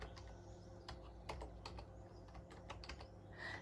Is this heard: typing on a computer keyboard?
yes